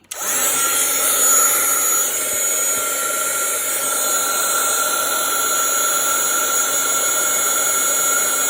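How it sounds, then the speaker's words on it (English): A heat gun heat-embosses faux snow glitter on craft branches, giving a loud, steady blowing whir that starts abruptly and runs unbroken throughout, with no talking over it. "I'm going to heat emboss them."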